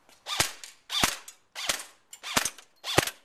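Five sharp gunshots ring out at steady intervals of about two-thirds of a second, aimed at an old iPod outdoors, each crack close and loud with a brief ringing tail.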